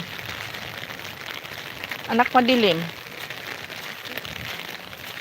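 Steady heavy rain hisses and patters in the background while someone speaks briefly in the middle, her voice rising above the downpour.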